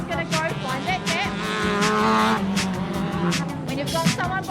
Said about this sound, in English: A slight advantage there for Aidan as they go into that first corner